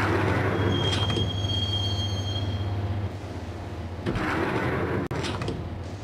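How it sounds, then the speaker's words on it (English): Train ride in the video game Max Payne: a steady, loud rumble of railcars with a high wheel squeal early on, a dip in the noise midway, then rattling and clatter of the carriage continuing to the end. "the train doors had already shut behind me, and I was in for the ride"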